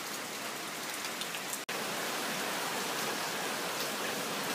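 Dense, steady rain from a super typhoon pouring down, a constant hiss of drops on surfaces, with one brief dropout partway through.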